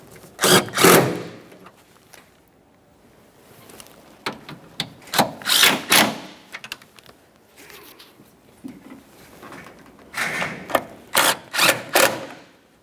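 Bolts on the ignition coils of a 2011-2020 Toyota Sienna 3.5L V6 are tightened with a ratchet, giving bursts of quick clicking and ratcheting separated by quiet pauses. The sounds are close and there is no speech.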